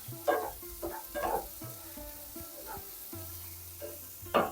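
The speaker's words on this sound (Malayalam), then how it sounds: "ഇതിൻ്റെ പച്ച മണമൊക്കെ മാറുന്നവരെ വറുത്തെടുക്കേ." Kashmiri chillies, coriander seeds and black pepper dry-roasting in a pan, with soft stirring scrapes and light sizzle coming in bursts, the loudest near the end.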